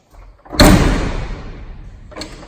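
A metal door on a grain bin falls off with a loud, close crash that rings and slowly decays, followed by a softer second clatter near the end.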